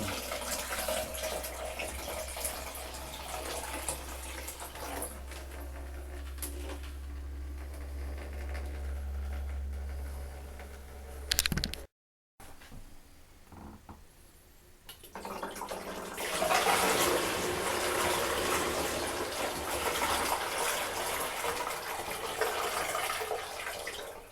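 Water from a Niagara Conservation chrome fixed showerhead, collected for a flow test, pours steadily and splashes into a container. A hissing rush runs throughout, briefly cuts out midway, then returns louder and brighter.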